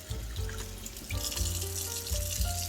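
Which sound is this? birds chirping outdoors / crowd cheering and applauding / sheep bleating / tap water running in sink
tap water running in sink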